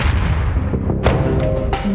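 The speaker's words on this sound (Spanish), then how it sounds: "en el reactor número 1 de Fukushima fue presentada la primera explosión" A hydrogen explosion at the Fukushima nuclear reactor unit 1 gives loud, heavy booming rumbles with sharp bursts on top, continuous and close through a short stretch.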